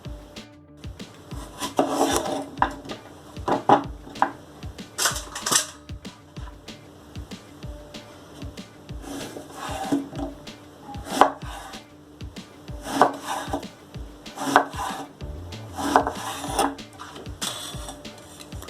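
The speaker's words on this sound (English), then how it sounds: "Slice the brinjal like this. Potato also cut like this, little bit strips." A knife slicing brinjal and potato into thin strips on a cutting board, with steady rhythmic chopping taps, close and crisp, and no talking.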